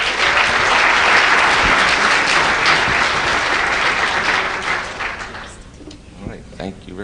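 A crowd applauds loudly and steadily, the clapping fading out near the end as a voice begins to speak.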